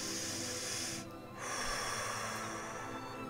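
A single audible breath taken during a guided meditation, a soft airy inhale and exhale heard over a steady hiss of background ambience, with no talking.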